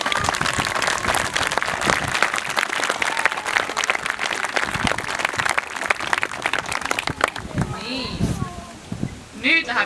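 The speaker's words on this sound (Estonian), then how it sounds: "Me teeme nüüd kõik hästi suure aplausi iseendale!" A crowd breaks into loud, sustained applause, a thick continuous clatter of hands, with voices calling out near the end as the clapping thins.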